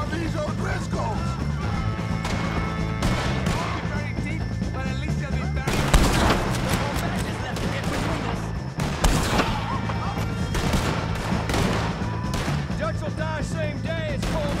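Red Dead Redemption 2 shootout against the O'Driscolls: rapid, sharp gunshots crack repeatedly amid continuous in-game music and ambience, with heavier bursts of fire around the middle, while voices shout over the fight.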